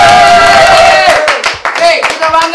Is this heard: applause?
yes